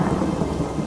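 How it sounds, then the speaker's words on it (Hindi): Rain pours steadily with a deep rumble of thunder in a cartoon storm scene, a dense, continuous wash of sound filling the brief moment without any voices. "अरे देखो, बारिश शुरू हो गई।"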